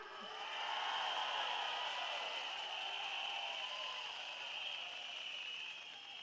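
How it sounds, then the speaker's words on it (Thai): Large crowd at a Thai political rally jeering and booing together in a sustained, dense roar that swells and holds for several seconds before easing off, with no single voice standing out. "เราต้องโห่ไล่มันหน่อยใช่ไหมครับ"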